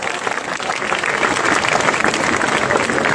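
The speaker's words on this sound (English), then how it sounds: "Hand of round of applause." A school audience at Omkar Educational Trust School in Dombivli applauds after a talk, producing a loud, dense, steady wash of clapping that lasts throughout and stands alone without speech.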